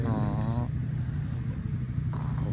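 A Kawasaki Balius II four-cylinder 250 motorcycle engine revs up, its rising whine cutting off and then settling into a steady, close, loud idle rumble.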